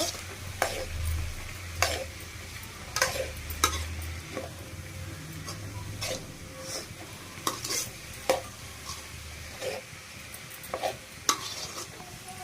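Carrots and beans sauté in a pan for a poriyal, with a steady low sizzle under repeated scraping strokes of a spoon stirring the vegetables at a close, even rhythm.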